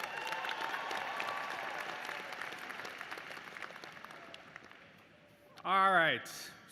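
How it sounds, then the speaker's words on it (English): A graduation ceremony crowd breaks into applause near the end, following a long stretch of faint, roomy background. The clapping arrives briefly and loudly, swelling to a short burst. "how about another round of applause for our student speakers?"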